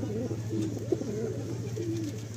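Madrasi and Andhra pigeons coo softly in a steady, rolling pattern close by, with a low hum running underneath.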